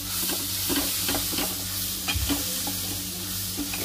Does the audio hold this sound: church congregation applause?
no